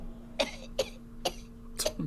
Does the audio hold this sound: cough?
yes